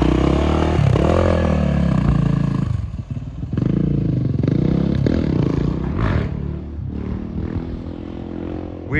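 A Yamaha YZF 450 motorcycle runs hot laps, its engine roaring and revving through gear changes as it passes fairly close, with clattering and wind noise and no clear talk.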